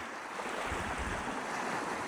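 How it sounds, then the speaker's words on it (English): Wind blusters steadily beside an icy turquoise mountain lake, a continuous rough rush with low rumbling buffets against the microphone, moderately loud and with no voices. "It's kind of windy."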